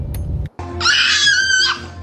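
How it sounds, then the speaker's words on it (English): A young boy screaming loudly and shrilly for over a second, preceded by a brief noisy scuffle and a short pause, in a domestic setting. "I told you you're not a girl. Stop screaming."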